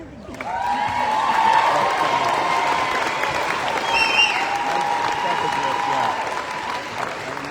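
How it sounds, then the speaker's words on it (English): Crowd applause at the Utah Republican Party state convention in May 2025, a sustained wash of clapping in a large hall with a steady tone ringing above it and voices faintly mixed in. "please give one more round of applause"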